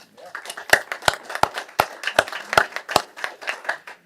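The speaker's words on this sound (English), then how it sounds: "A round of applause for Megan." A round of applause at a city council special session, a loose run of sharp claps from a small group, close and fairly loud, with no talk over it.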